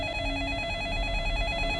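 A telephone in the horror film The Ring rings steadily, its electronic bell tone pulsing in a continuous repeating pattern at moderate volume.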